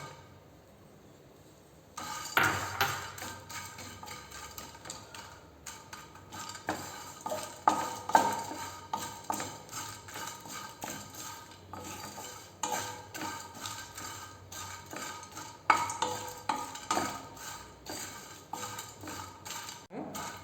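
Cinnamon sticks dry-roasting in a pan for homemade garam masala, stirred with a metal utensil that clatters and scrapes in uneven bursts against the pan, close and fairly loud, after a quiet start.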